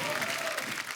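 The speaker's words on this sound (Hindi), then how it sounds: "तालियां जोरदार होनी चाहिए" Studio audience on The Kapil Sharma Show applauds loudly, a thick continuous patter of clapping that fills the whole short moment.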